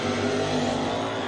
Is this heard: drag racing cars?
yes